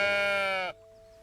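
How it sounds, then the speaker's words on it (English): A goat in the cozy building game Tiny Glade gives one short, bright bleat up close, then a thin tone lingers faintly after it cuts off. "Look at the goat."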